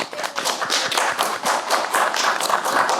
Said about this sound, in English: So we're gonna give y'all another hand clap